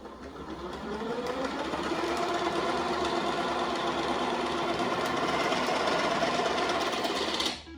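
A Thermomix TM7 whirs steadily in spiralizing mode, its motor hum and rhythmic cutting chatter building over the first second and holding evenly before stopping abruptly near the end; no talking.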